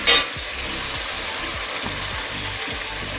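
Meat cooking with spices in a pan, a steady close sizzle with soft scraping stirs repeating every half second or so, after a brief bright hiss at the start.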